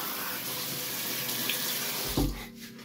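Tap water runs steadily into a sink while a face is rinsed after shaving, a close continuous rush that ends with a brief splash and drops away near the end.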